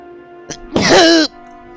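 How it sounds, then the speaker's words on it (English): A single sharp human sneeze bursts out loud and close, preceded by a brief intake of breath, then quiet returns. "I just sneezed"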